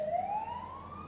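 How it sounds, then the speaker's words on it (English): An ambulance siren wails outside, with one rising tone sweeping slowly upward at moderate distance against a quiet room background. "I'm sorry if you hear an ambulance."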